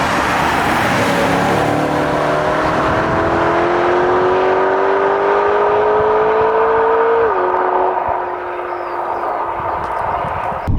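A BMW E92 M3 V8 exhaust revs out loud and steady, climbing smoothly toward high RPM before the note drops abruptly and settles into a lower drone, with no voices.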